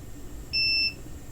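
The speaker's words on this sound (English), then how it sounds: "The reason that one beeped is because I know there's a capacitor across those pins." Single steady electronic beep from a continuity tester probing capacitor pins on a reflow-soldered circuit board, about a third of a second long, clear and close over faint room hiss.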